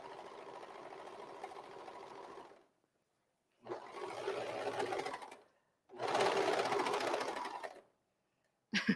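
A serger sewing machine running in three separate bursts of a few seconds each, a fast close whirring stitch with quiet gaps between runs.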